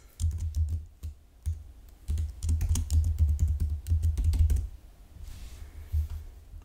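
Rapid typing on a computer keyboard while entering text in Illustrator, a dense run of close, crisp key clicks in bursts with a short pause, then a few scattered taps near the end.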